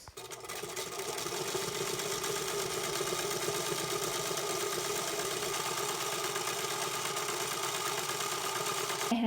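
A sewing machine runs steadily, stitching down each side of folded fabric for a homemade face mask, a continuous mechanical whir that starts right away and holds at an even, fairly loud level throughout with no talking.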